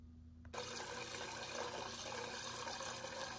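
Water runs steadily from a Samsung refrigerator's filter dispenser into a container after a new water filter is fitted, starting abruptly after a short quiet moment and continuing as a close, even splashing stream.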